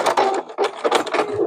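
A sewing machine running zigzag and stay stitches on an appliqué quilt block, sounding as short loud mechanical bursts of rapid stitching broken by brief pauses, close up, with no talking.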